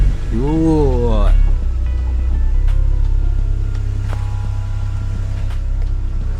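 A car engine idles steadily at around 900 to 1,000 rpm with the fan off, a low continuous hum under someone talking nearby.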